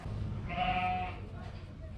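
A single short sheep bleat at a fiber festival, faint and somewhat distant, heard under low background murmur and voices.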